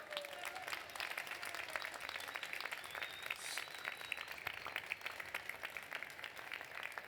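An audience at a gastronomy event applauds cook and writer Maria Nicolau, dense even clapping sustained for several seconds at a moderate distance, with no talk over it.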